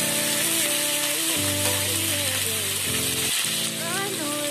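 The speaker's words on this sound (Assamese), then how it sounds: "5 মিনিট মই হাই ফ্লেমত এখিনি অকমান ফ্রাই কৰি লম" Okra frying in oil in a kadai over high flame, a steady loud sizzle throughout with a low hum and brief stirring, and a voice faintly in the background.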